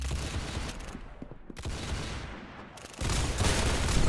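Roblox Arsenal gunfire, loud and close: dense bursts of rapid shots, a brief lull, then heavier sustained firing building to the end.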